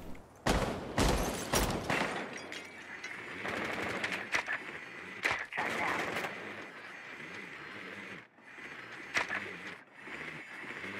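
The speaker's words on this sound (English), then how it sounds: "Someone's suppressed and shooting at me." Bursts of suppressed gunfire from the video game Rainbow Six Siege, clustered sharp cracks and rapid volleys at moderate distance, scattered over the clip with gaps between the bursts and no talk.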